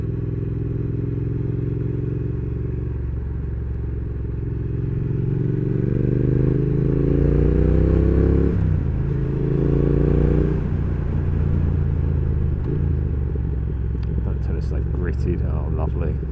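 Triumph Thruxton R motorcycle engine droning steadily while riding, a loud continuous low rumble with rising and falling pitch as it accelerates, wind noise throughout and a voice talking over it near the end.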